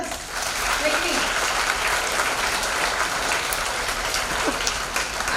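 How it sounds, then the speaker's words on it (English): Children at an Earth Day school event clap for their teachers, a steady dense roar of applause that stays even throughout, with some voices faintly underneath. "So can we clap for the teachers?"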